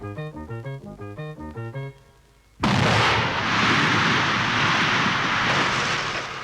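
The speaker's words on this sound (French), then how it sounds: "D'une explosion peut jaillir une forme nouvelle" After a rhythmic musical passage and a brief lull, a sudden loud blasting explosion erupts into a sustained roaring rumble of debris and echo that slowly fades.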